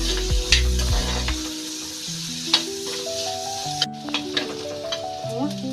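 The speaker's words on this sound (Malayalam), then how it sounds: "ചെറിയ ഉള്ളി ആണത്, ഇട്ട് നല്ലവണ്ണം മൂപ്പിക്കും" Small onions with green chillies and garlic frying in a pan, a steady close sizzle broken by stirring clinks and scrapes, with background music playing underneath.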